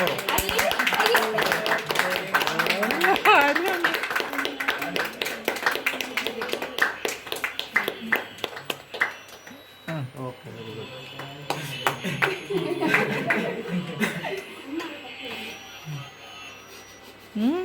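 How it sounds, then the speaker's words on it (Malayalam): A group of people clap their hands in a quick, uneven patter of close claps mixed with voices talking and calling out, fading and picking up again toward the end. "എല്ലാരും ഒന്ന് കൈയടിച്ചേ."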